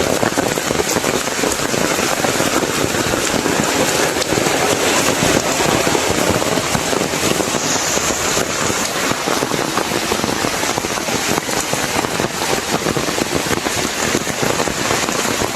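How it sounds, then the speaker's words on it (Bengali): Heavy rain pours down steadily in a village setting near a mosque water source, a dense, loud, continuous hiss and patter on surfaces with no let-up and no one talking. "যে জোরে বৃষ্টি নামতেছে আমি তো ভিজেই যাইতেছি"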